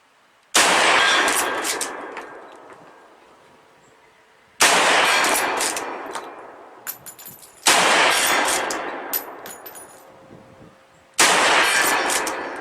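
A 1971 NRA commemorative Winchester Model 94 lever-action rifle fired at an outdoor rifle range, four loud sharp shots spaced several seconds apart, each trailing off in a long echo.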